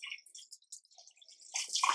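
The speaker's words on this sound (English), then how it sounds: "Pour the rest in the shower." RV antifreeze is poured into a travel trailer's shower drain while the rig is winterized. The pour gurgles and splashes in close, uneven spurts and drips, swelling into a fuller trickle near the end.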